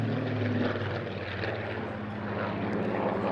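A Supermarine Spitfire PR XIX with a Rolls-Royce Griffon engine at the Eastbourne Airshow 2022: a steady, loud propeller-engine roar with a deep throbbing drone, sustained throughout.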